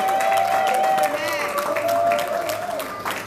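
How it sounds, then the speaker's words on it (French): A church congregation applauding and cheering, a dense sustained wash of clapping and crowd noise with a high, steady whistle-like tone running through it, loud and continuous for a few seconds. "On acclame très fort le Seigneur"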